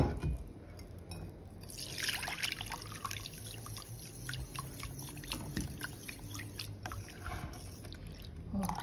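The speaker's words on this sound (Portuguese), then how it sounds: "A gente vai colocar 100 ml de água" Water pours and trickles close by as 100 ml is added to Cif cream cleanser and mixed in, a soft, continuous dribbling and sloshing lasting several seconds.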